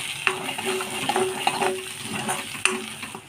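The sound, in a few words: stirring and sautéing brinjal curry in pan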